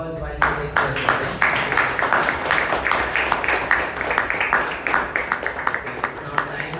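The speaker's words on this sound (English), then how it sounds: "And round of applause while you take your seats." Members of a Bangalore Toastmasters Club meeting give a round of applause to new members, a brisk, steady patter of many hands clapping close by for several seconds.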